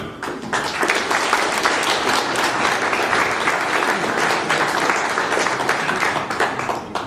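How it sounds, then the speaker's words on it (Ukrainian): Sustained audience applause greets a guest at an award ceremony for the Order of Saint Sophia, a dense, even wash of many hands clapping for several seconds at moderate volume. "Прошу вашими оплесками вітати Мамадли Рокшана Аламогли, президента компані"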